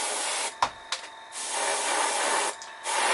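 Bursts of aerosol spray paint hiss onto a model, several short blasts then longer sustained sprays with brief pauses, close and steady.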